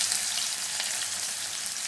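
Curry leaves hit hot oil already crackling with mustard seeds and cumin, giving a loud, steady hiss and sizzle with no voices.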